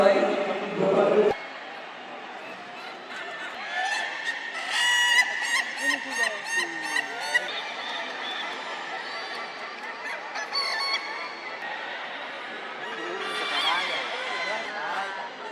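An ayam ketawa, a laughing chicken from South Sulawesi, gives long repeated crowing calls with rapid cackling pulses. Several bursts come close and clear over a faint background, with a brief speaking voice at the start.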